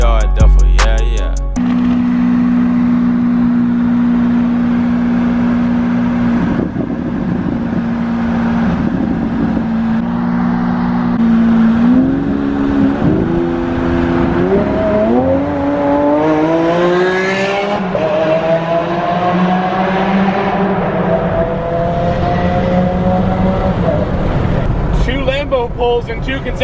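A car pulls hard through a tunnel, its engine climbing through the revs with rising harmonics and echoing loudly. Voices talk over the sound at times.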